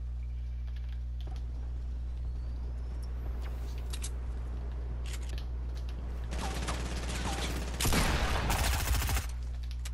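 Sniper rifle shots in a 50v50 shooter video game: two loud, crackling bursts late on, the second the strongest, over a steady low hum and faint clicking.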